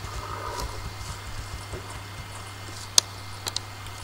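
Horse hooves clop in an uneven rhythm in Star Stable Online, with a faint neigh and a few sharp ticks over a low steady game hum.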